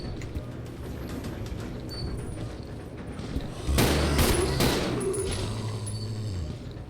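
Pistol shots in Resident Evil 0 HD Remaster: a cluster of three or four close, loud reports in quick succession partway through, over a low background rumble with faint clicks and no talking.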